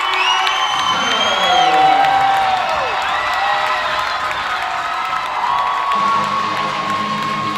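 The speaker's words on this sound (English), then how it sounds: "And this crowd is loving it." Loud arena crowd at a competitive cheer semifinal, with whoops, high-pitched screams and cheering swelling and sustaining for several seconds, people on their feet, with some clapping mixed in.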